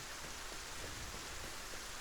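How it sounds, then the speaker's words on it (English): Steady rain in the factory-building game Satisfactory hisses as a dense, even wash of droplets, soft and continuous with no talking. "I love the rain"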